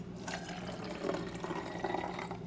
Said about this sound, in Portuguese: que eu vou colocar um pouco dessa água aqui